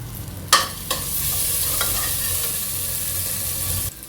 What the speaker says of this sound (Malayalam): ഇതൊന്ന് 1 മിനിറ്റ് നേരം ഒന്ന് സോട്ട് ചെയ്യാം.